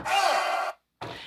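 A vocal sample hit from a beat made in Pro Tools: a short sustained voiced tone lasting under a second, cut off abruptly, then a second hit starting after a brief gap.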